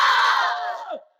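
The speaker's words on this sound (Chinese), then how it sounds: "感谢大家热情洋溢的掌声" Audience at a Deyun Society crosstalk show erupting in loud cheering and shouts that fade out within about a second.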